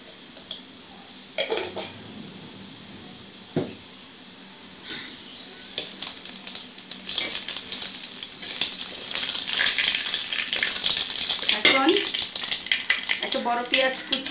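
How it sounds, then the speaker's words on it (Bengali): A spoonful of cumin seeds dropped into hot oil, crackling and sizzling louder and denser as it goes on, with a few utensil knocks and a voice talking in the background at times. "এখন আমি এক চামচ জিরা দিয়ে দিব।"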